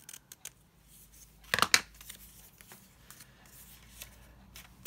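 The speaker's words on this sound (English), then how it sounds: "So let's cut that little bit of excess off." Scissors snipping excess paper off a handmade card embellishment, a brief close cluster of sharp cutting snips amid quiet, with faint paper handling sounds around it.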